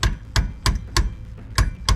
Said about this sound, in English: You're gonna put it on the end of the thread and then hammer it out